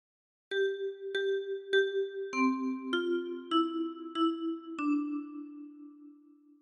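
A 10-key kalimba plays a phrase of Hark the Herald Angels Sing, eight bright plucked tines in a steady rhythm, each note ringing and overlapping, the final note sustaining and fading; close and clear with no voices.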